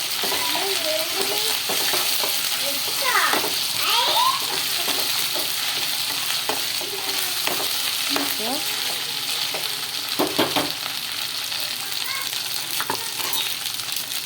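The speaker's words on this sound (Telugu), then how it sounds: "వేగుతున్నాయండి. ఈ ఉల్లిపాయలు వేగే టైంలోనే ఒక స్పూన్ అల్లం వెల్లుల్లి పేస్ట్ అయితే వేసుకున్నాను." Sliced onions with ginger garlic paste sizzle steadily in a pan while a spoon stirs and scrapes at intervals, close and continuous, no talk.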